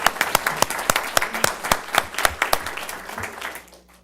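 A city council meeting audience claps for its fire chief, a modest group with individual hand claps clearly separable in an uneven rhythm, sustained for several seconds before dropping away at the end.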